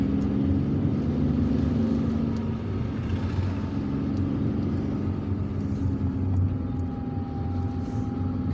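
A car drives through the streets of Algiers from Bologhine toward Bouzareah, giving a steady, fairly loud engine rumble with road noise that swells and eases slightly, and no voices.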